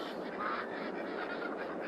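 Ducks quacking on a farm, a steady faint chorus of overlapping calls heard from a distance with no talk.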